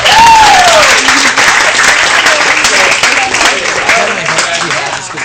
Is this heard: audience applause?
yes